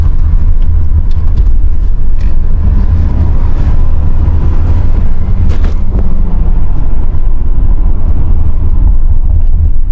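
Cabin of a Mercedes GLC 250 Coupe 4Matic on the road, with a steady low engine and road rumble, some wind noise and a few faint ticks and clicks, heard continuously from inside with no talking.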